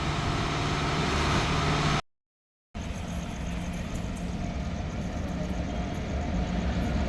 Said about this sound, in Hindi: सामने से आ रही है आनंद विहार से चलकर कामाख्या जाने वाली स्पेशल ट्रेन